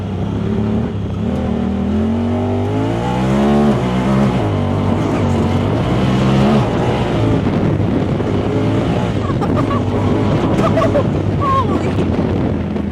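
Tuned Eagle Talon accelerating hard, its engine note climbing to high revs and dropping at shifts, loud and droning inside the cabin with wind noise around it.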